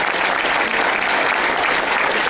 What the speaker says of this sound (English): Ladies and gentlemen, how about a round of applause for both of our Congress candidates.